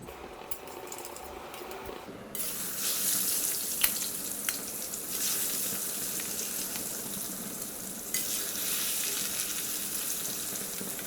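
Pieces of Foli fish fry in hot mustard oil seasoned with salt and turmeric, a loud close steady sizzle that swells after a quieter start, with occasional sharper crackles and no talking.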